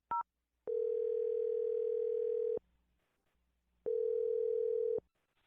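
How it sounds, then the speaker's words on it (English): Telephone dial tone while a phone number is dialed: a brief keypad beep, then two steady, loud, unbroken tones of about two seconds each, separated by a quiet gap. "I'm going to dial his phone number now"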